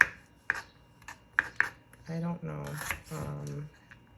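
Onion being chopped on a board for guacamole, a handful of quick knife taps in the first two seconds, then someone speaks over a couple of further faint cuts.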